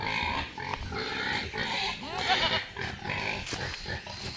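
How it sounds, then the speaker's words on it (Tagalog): Pigs grunting in a farm pen on a Filipino backyard hog raising setup, a steady jumble of low grunts and snuffles at close range with ongoing farmyard noise, no talk. "Yung 3 kong baboy dito sa taas, malalaki na rin eh."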